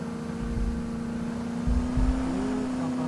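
A Mahindra Scorpio engine drones steadily as it climbs a mountain road, a sustained close hum with a rising pitch toward the end and brief low thumps from the road.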